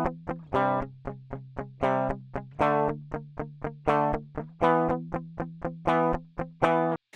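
A dry DI electric guitar recording plays back clean and unprocessed, a steady run of plucked single notes and short chords with a low repeating note underneath, moderately loud and with no talking.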